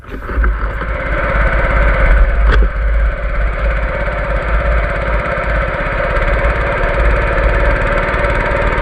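A Honda engine on a Thai long-tail boat drones loudly and steadily up close, with a rough low rumble and rattling throb that holds constant throughout, with no talking.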